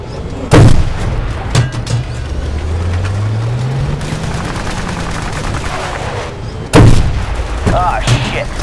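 Gunfire and explosions in the video game Battlefield: Bad Company 2: heavy booming blasts at the start and again later, with sharp shots and a droning engine rising between them, all loud and close.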